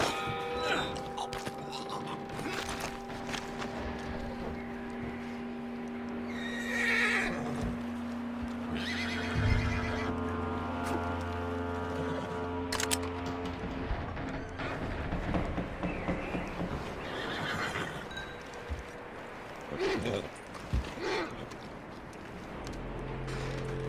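In the video game Red Dead Redemption 2, horses neigh and whinny repeatedly over hoofbeats clip-clopping, with cattle lowing and layered background ambience and music-like tones throughout.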